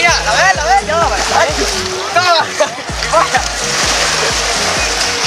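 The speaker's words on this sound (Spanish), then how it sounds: "Ay, te tiro el agua, aquí, polla. Te tiro el agua." Water thrown outdoors, loud repeated splashes and sloshing with a person shouting over them and a music track playing underneath.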